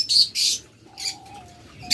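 Budgerigars chirp in short, high bursts, with a thin whistled note between calls; no talking.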